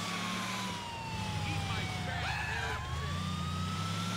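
A police siren wails steadily in GTA IV during a car chase, its long gliding tone running through the whole stretch over a dense engine rumble and traffic noise.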